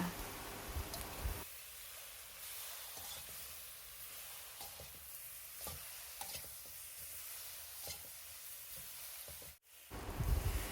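Hong Kong kale stir-frying in a hot pan with soy sauce and sugar, a steady close sizzle with scattered stirring clicks, running alone before a brief pause near the end.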